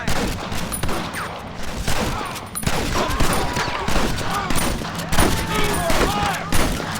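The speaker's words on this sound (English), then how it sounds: "use that Gatling gun!" A Gatling gun rattles off repeated bursts of rapid fire during a Red Dead Redemption battle, dense crackling volleys mixed with scattered shots, with shouted voices faintly underneath.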